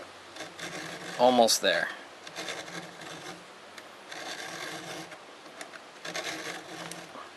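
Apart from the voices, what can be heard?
filing a chainsaw cutter with a file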